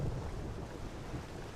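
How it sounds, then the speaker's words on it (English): Steady rainfall and low rumbling thunder over coastal water in the video game Morrowind, a dense continuous wash of rain with a deep roll underneath. "The mud crabs swimming and the raindrops falling on the water."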